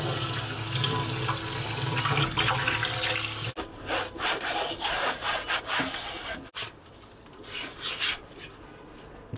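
Water runs and splashes steadily while an RV exhaust fan's insect screen is being washed, with rubbing and scrubbing noises over it and two brief breaks in the flow.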